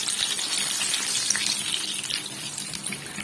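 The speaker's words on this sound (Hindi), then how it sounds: "ये हमने कबाब हमने तेज़ आंच में ही फ्राई करने हैं, हल्की आंच पे नहीं करने।" Potato chapli kababs frying over high heat in a pan, a steady close crackling sizzle with a hiss throughout and no talk.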